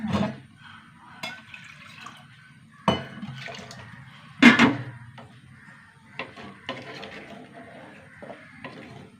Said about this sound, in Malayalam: കുറച്ചുകൂടി വെള്ളം ഒഴിച്ചു കൊടുക്കട്ടെ